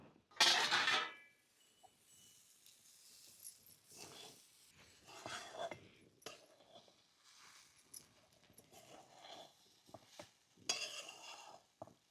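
Stale bhakri pieces being stir-fried and tossed in a pan, with intermittent scraping and stirring clatter, one loud sharp burst at the start and another near the end, close and fairly quiet in between, no talk.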